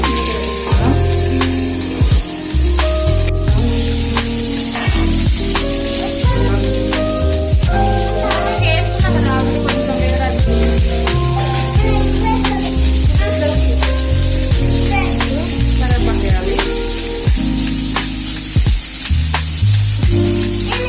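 Drumstick pieces frying in a pan of oil give a loud, continuous sizzle and crackle, layered over steady tonal background music.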